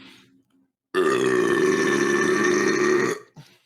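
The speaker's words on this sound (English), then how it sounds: "Fucking Coke Zero gives you them good ass burps" A long, loud, resonant burp after drinking Coke Zero, lasting over two seconds close to the mic, with brief quieter sounds before and after.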